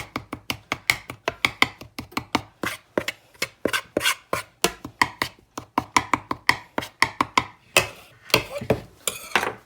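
A dinner knife cuts repeatedly into Southern flat dumpling dough, giving a fast, steady series of sharp, close chopping taps against the board, with no talking.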